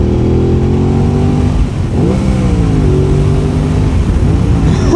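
A newly bought motorcycle's engine runs loud and close, its revs rising, dipping briefly, then climbing again, a strong rumbling tone with no talking over it.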